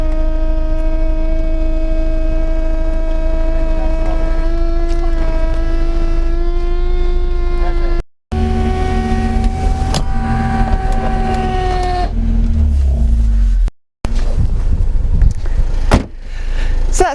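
Electric convertible roof on a BMW Z4 E85 operating in a car park: a sustained motor whine with shifting pitch, pausing briefly twice, then ending with a mechanical clunk as the roof closes.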